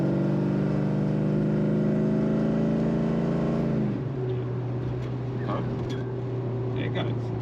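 A 1982 Ford XE Fairmont Ghia with a 5.8-litre V8 pulls hard from inside the cabin, its engine note climbing until a shift near the middle drops the pitch into a lower, steady drone; a voice is faintly present.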